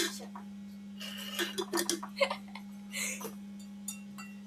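A spoon stirs a mixture in a bowl, giving scattered clinks and scrapes of metal against the dish with a few brighter knocks, under a steady low electrical hum.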